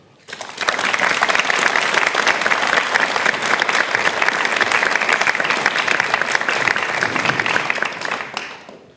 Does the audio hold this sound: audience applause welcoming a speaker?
yes